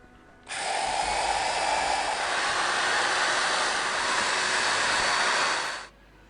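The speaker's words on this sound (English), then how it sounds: "I'm going to drill a hole in the top and then holes all the way around" A steady, high-pitched electric drill with a 1/8-inch bit whines continuously for about five seconds, drilling holes in a plastic tub, starting and stopping abruptly, close and loud with no talking.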